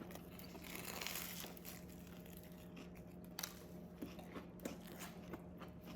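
Crispy food is chewed hastily at close range, with soft crunches and wet mastication sounds and a few sharper bites, all fairly quiet with no talking.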